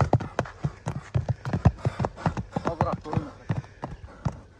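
A horse's hooves strike in a quick, regular run of crisp, close beats, with voices murmuring in the background.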